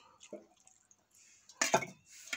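Cluster beans (gavar) are washed by hand in water: quiet, scattered splashes and a few clinks of a vessel, with a louder slosh of water near the end.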